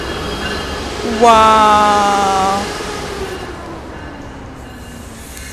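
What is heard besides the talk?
Brightline train at the station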